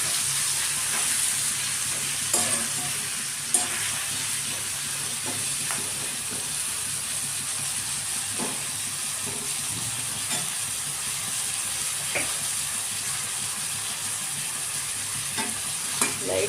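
Tomatoes cooking with salt in a pan for a coriander-mint tomato chutney, with a continuous soft sizzle and sporadic spatula scrapes and taps throughout.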